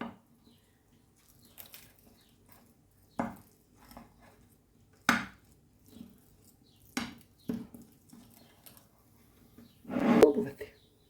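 Knife slicing through a zucchini-crust pizza on a serving plate, heard as several separate cutting thuds and scrapes with quiet gaps between them, close by. A louder burst of handling noise comes near the end.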